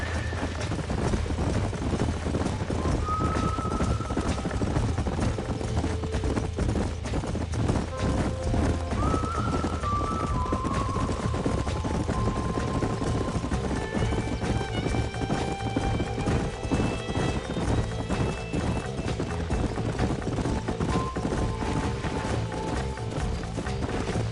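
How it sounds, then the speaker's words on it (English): Several horses from the video game Red Dead Redemption clip-clop in a steady, busy rhythm for the whole stretch, with repeated neighs and whinnies rising over the hoofbeats, fairly close and continuous. "These are fine horses."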